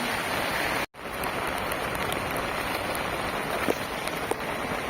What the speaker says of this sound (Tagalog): Medyo talagang malakas-lakas talaga ang ulan.